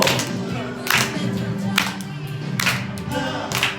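A church congregation claps along in steady beats during worship, roughly one clap every second, with a sustained musical backing underneath.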